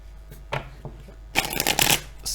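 Tarot cards shuffled by hand in bursts: a few soft riffles and taps, then a louder, dense flurry of fluttering card edges up close, with no voice over them.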